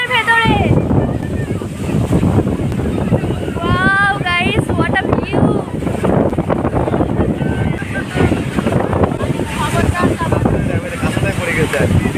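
Ocean surf on Puri beach washes in a constant roar under wind buffeting, while people chatter and shout nearby throughout.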